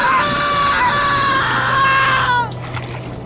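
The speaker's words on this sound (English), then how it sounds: "we just hear this shrill scream." A shrill, blood-curdling human scream, high and sustained with sharp tonal harmonics, loud and close, then cutting off abruptly into quieter background.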